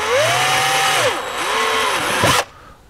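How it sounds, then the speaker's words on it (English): Close, loud power drill whining up and down in pitch as it bites into a dash panel on an FJ Cruiser, then cutting off abruptly near the end. "Don't get too crazy with the drill."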